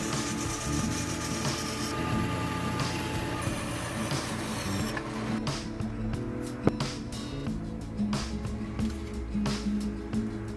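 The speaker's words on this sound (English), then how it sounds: "Dad starts making the neck, roughly cutting the shape of the neck from a block of mahogany" Rough cutting of a mahogany block into a ukulele neck in a small Japanese ukulele workshop: a continuous machine saw drone for about five seconds, then intermittent cutting bursts and knocks.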